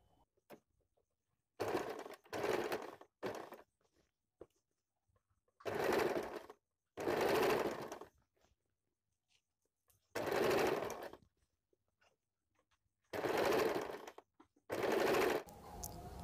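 Sewing machine topstitching the fabric of a women's top, running in short fast bursts of rapid needle chatter separated by quiet pauses, about six bursts, close and clear with no talk.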